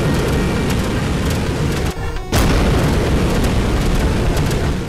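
Ray gun blasts in the physics platformer video game No Time to Explain make a loud, continuous roaring rumble that breaks off briefly before surging back, dense and close.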